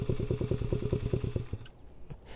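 A child's small motorcycle engine idles with a steady, throbbing putter, then cuts out abruptly, leaving quiet background noise.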